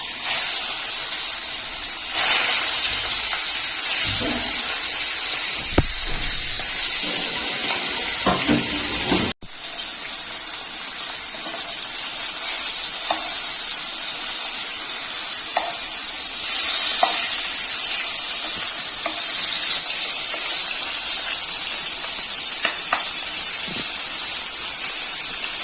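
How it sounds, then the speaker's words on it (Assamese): Pieces of ilish fish fry in hot oil in a wok, giving a constant loud hiss and sizzle with occasional crackles and stirring scrapes throughout. "এতিয়া মই মাছখিনি অকমান ফ্ৰাই কৰি লম।"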